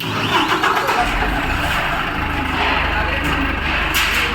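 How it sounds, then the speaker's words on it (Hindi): A big truck's engine rumbles as the vehicle rolls into an automobile workshop in Jharkhand, a steady low mechanical drone with some clatter and voices in the background. "बहुत ही बड़ा गाड़ी इसमें घुस गया, कारखाना में घुस गया।"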